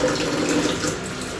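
Raw meat is washed quickly in a sink under steady running tap water, a close, continuous splashing and pouring in a village kitchen.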